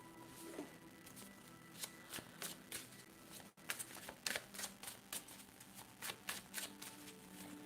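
A steampunk tarot deck is shuffled by hand in quiet, crisp bursts of riffling and card snaps, irregular and close, with a brief pause midway before the shuffling resumes.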